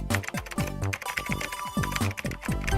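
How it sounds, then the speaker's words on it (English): Fast, steady typing on a computer keyboard, close and clear, with rapid clicking keystrokes and heavier spacebar thumps and no voices. "So just type that in right now."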